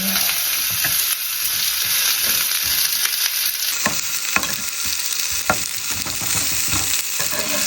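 Sliced vegetables frying in a pan for beef burgers give a steady, close sizzle, with scattered clinks and scrapes of stirring throughout and no talking.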